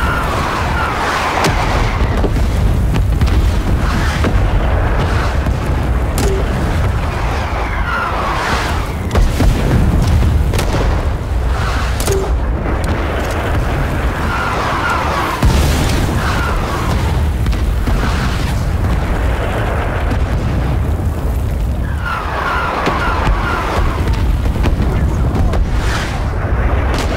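Napalm strike explosions in the Vietnam War shooter Rising Storm 2: Vietnam, a loud continuous rolling roar of booms and deep rumbles that swell and overlap throughout, with occasional sharper bursts.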